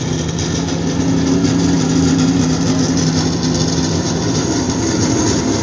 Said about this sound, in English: we still have the noisy car over there